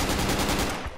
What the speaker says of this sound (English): We got enemy M60.